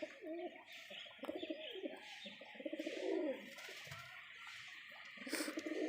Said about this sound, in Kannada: ಗಂಡು ಅಕ್ಕಿಗಳು ಗುಮಾಯಿಸ್ಕೊಳ್ತಾ ಇರ್ತವೆ